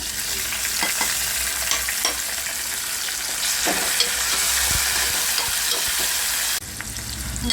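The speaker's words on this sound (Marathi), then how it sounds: "आपला कांदा भाजत आला आहे तर त्यामध्ये आपण आता टॅमॅटो ॲड करूया" Onions and tomatoes fry in oil in a pan with a loud, continuous close sizzle and occasional stirring scrapes; the sizzle eases slightly near the end.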